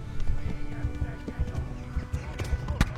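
Horse running in a video game, with irregular low thumping hoofbeats under a busy game soundtrack and occasional sharp impacts, while a person talks over it.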